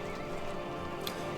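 Horse in the Battle for Middle-earth II strategy game, a mounted hero's steed giving a short neigh amid a dense, steady wash of game sound and music, with no voice over it.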